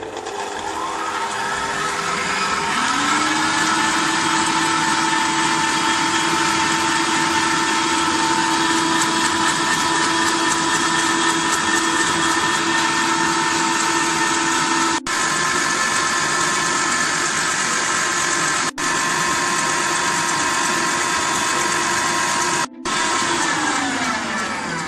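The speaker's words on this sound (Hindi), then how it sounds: "तो बीटर मैं स्टार्ट कर रही हूँ चलाना।" An electric beater whips eggs at high speed for a chocolate sponge cake, a loud, steady motor whine that starts up and runs continuously up close with a few brief dropouts.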